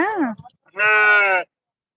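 Sheep at a livestock market in Chillakallu give two close, loud bleats: a short wavering one, then a longer sustained cry after a brief pause.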